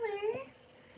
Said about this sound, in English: My kitty came.